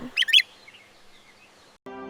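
A bulbul gives a quick burst of two or three bright, high chirps, close and clear, followed by near silence before a voice begins at the very end.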